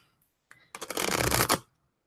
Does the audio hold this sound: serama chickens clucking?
no